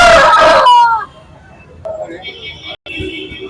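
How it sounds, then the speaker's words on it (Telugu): Rooster crowing at a country chicken market in Anantapur, one loud close crow at the start trailing off, then faint market background and other birds, with people talking nearby. "ఇది వచ్చేసరి మరి ఒక పుంజు ఫ్రెండ్స్"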